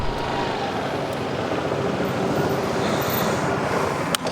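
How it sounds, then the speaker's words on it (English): Heavy wind roar while riding an Aprilia SR GT 200 scooter at highway speed, a loud, constant broadband rush buffeting the microphone with a brief knock near the end. "So highway riding, no issue I feel, other than the wind. It's really in your face right now."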